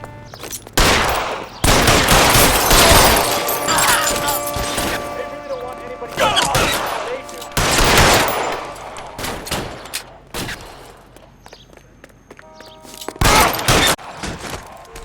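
Repeated bursts of gunfire ring out during a chaotic video game shootout in a crime detective game, loud and near, with rapid volleys and single shots scattered across the span between moments of quieter action.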